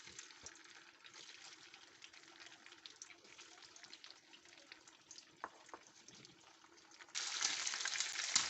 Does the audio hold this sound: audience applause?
no